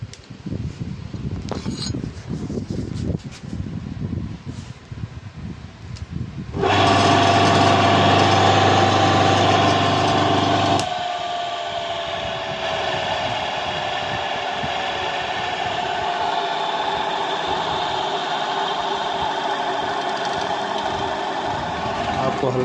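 A 2 HP electric motor for an atta chakki flour mill starts up loud and steady for a few seconds, then drops to a quieter running whine that slowly winds down; someone talks before and through it.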